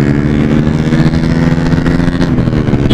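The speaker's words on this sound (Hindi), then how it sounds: "बाइक अपाची चला रहे हैं।" A TVS Apache 160 motorcycle engine runs steadily and loud up close, a throbbing mid-pitched hum holding throughout without any talk.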